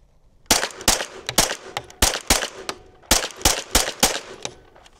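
Rapid shots from a 9mm folding carbine ring out in two bursts of sharp, loud cracks, each report followed by a short echo, with no talking.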